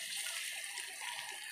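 Soy sauce is poured into a hot pan, a brief steady liquid splash and hiss, close and faint.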